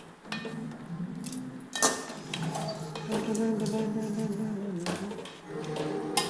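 Drumstick leaves are stirred in a cooking pan, and a utensil scrapes and clinks against the metal in irregular bursts. The sounds are close and moderately loud, with small clatters between them.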